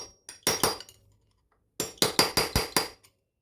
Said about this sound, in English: let's swap to the medium-sized screwdriver just to get it started